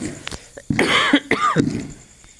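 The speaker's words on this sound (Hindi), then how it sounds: "खांसी आ गई थी हमें बहुत तेज़ी से।" A person coughs a few times in quick succession, close and fairly loud, with a throaty, rasping quality.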